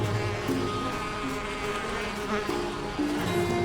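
Insect-like buzzing of bees in the video game Elroy and the Aliens, a steady droning hum layered with game music tones, continuous and fairly loud throughout.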